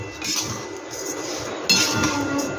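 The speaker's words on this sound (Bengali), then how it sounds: "হালকা করে সিমইটা ভেজে নিচ্ছি।" Utensils clink against a pan while vermicelli (simui) is lightly fried for a vegetarian simui pulao, a few sharp metallic taps over a steady hiss, with one louder scrape near the end.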